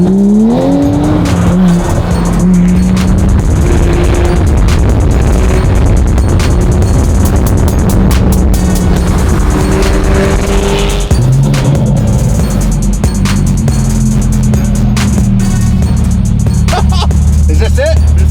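Loud, continuous engine roar from a widebody 2020 Toyota Supra on a downhill spiral ramp, with rising and falling rev tones throughout and people talking over it.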